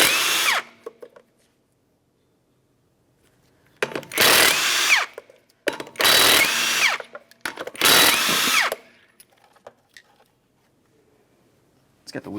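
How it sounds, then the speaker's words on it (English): Power tool spinning off 19mm lug nuts from a 1994-1997 Honda Accord front wheel, four loud close whirring bursts separated by short pauses, with brief talk at the start. "Remove all 4 of your 19mm lug nuts, the hubcap, and the wheel."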